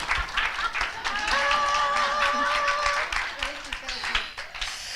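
Audience applause fills a talk-show style self-love event, a steady wash of clapping from a crowd with a host's voice and whoops rising over it.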